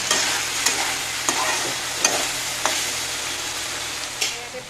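Fiddlehead fern (dhekia) fries in a pan with a constant sizzle, while a spatula scrapes and knocks against the pan about every half second, loud and close.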